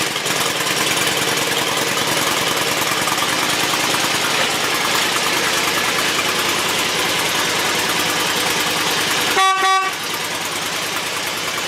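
A car engine idles steadily and loudly with a busy, ticking clatter from the hydraulic lifters. A short horn honk cuts in near the end.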